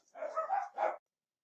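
Dogs bark indoors in a quick, muffled pair of bursts lasting about a second, then it goes silent.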